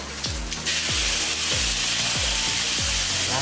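Ground spice paste sizzles steadily in hot oil for opor ayam, a loud continuous frying hiss with a spoon or spatula scraping the pan in regular strokes about every half second, close up with no talking.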